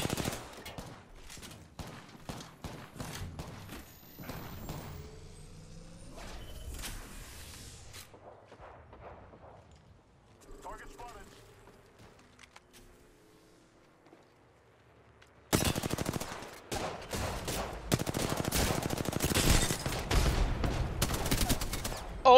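Rapid gunfire and charge rifle shots from an Apex Legends tournament match crackle in dense bursts, sparse at first, then loud sustained volleys near the end.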